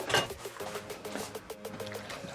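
Water poured from a container into a roasting dish of lamb before it goes into a steam oven, a steady splashing trickle with a brief louder burst at the start, close and fairly quiet.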